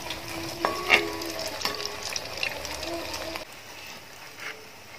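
A potato snack dropped into hot oil, crackling and sizzling close by with a few clinks from the pan, then settling to a softer fry.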